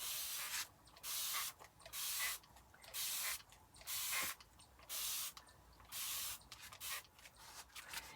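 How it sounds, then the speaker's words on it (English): A mister sprays in repeated short bursts, about seven hissing pulses separated by brief pauses, close and fairly loud. "I'm going to spray it again over on the other side"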